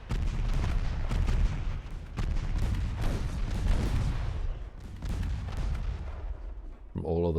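Many naval guns from a 1913-era French fleet in a warship battle game fire in a dense, continuous barrage of heavy booms and rumbling blasts, loud and overlapping for several seconds before easing off.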